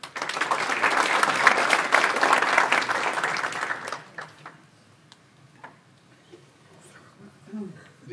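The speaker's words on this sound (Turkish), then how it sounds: "Alkışlarımızla." Seminar audience applauding as a closing speaker is invited to the podium: dense, loud clapping for about four seconds, then a few scattered claps fading into a quieter room.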